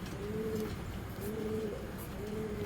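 Giribaz pigeons at a breeding farm coo steadily and close by, a low rolling call repeating roughly every second against a constant background hum, with no talking.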